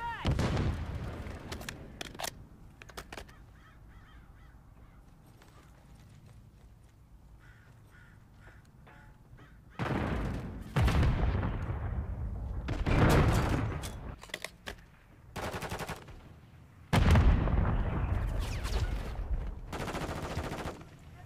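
Bursts of automatic gunfire from Modern Warfare 3 multiplayer come in several loud clusters separated by quieter stretches, with sharp repeated shots and some lighter gameplay noise between them.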